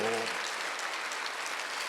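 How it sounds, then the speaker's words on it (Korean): Church congregation applauding during a Sunday worship service, a dense wash of clapping right after a pastor's voice cuts off at the start. "박수하세요."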